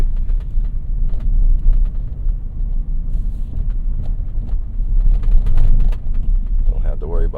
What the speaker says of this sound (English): Look at this bumpy road. This truck was made for it.